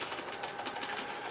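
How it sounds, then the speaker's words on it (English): A noisy Dell Optiplex 990 desktop computer running, a faint but constant mechanical whir with a fast rattling flutter, heard alone. "So this is an Optiplex 990 as well. Noisy. Very noisy."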